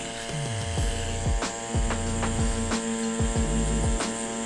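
A tattoo machine buzzes steadily and up close while shading skin, a continuous electric hum with rhythmic dips and sweeps as the needle strokes repeat, with no one talking.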